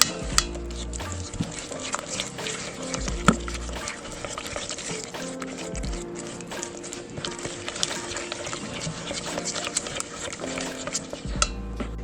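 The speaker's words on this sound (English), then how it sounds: "go ahead in and mix all of this good stuff up and mix it" A spoon stirs brown sugar cookie ingredients with maple extract in a bowl, giving continuous scraping and clinking strokes against the sides, close and steady throughout.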